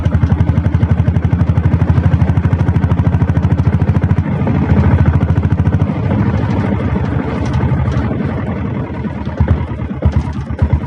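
Diesel Royal Enfield Bullet motorcycle engine running steadily, a loud, close, rapid low thumping beat that holds throughout with slight shifts in pace.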